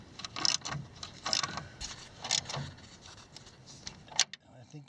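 A wrench works on a transmission mount bolt of a Jeep CJ-5: faint, close metallic clicks and ratcheting taps come in short, irregular bursts against a quiet background.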